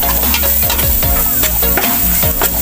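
Ingredients sautéing in a pan for chicken feet sinampalokan, a loud, close, continuous sizzle with repeated scraping strokes of stirring.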